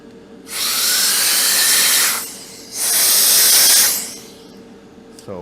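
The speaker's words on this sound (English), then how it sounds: "Let's cool that down real quick with some spray." Two long, loud bursts of aerosol spray hiss close by, separated by a short pause, with a faint click afterward.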